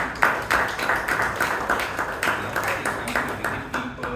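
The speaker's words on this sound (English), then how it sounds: "So keep ringing the bell." A hand bell rung by the timekeeper at a Toastmasters club anniversary meeting in Bangalore, struck in a fast, steady series of bright, ringing dings that overlap into one continuous peal across the room.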